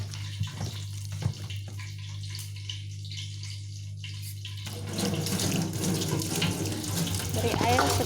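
Water poured from a tap into flour batter for sweet and sour chicken, a steady running stream starting after a quiet hum and growing fuller toward the end, with a soft voice briefly.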